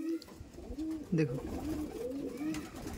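A white Madrasi pigeon coos in a low, repeated rolling burble, with one louder call near the middle, close by against background murmur; a person briefly speaks.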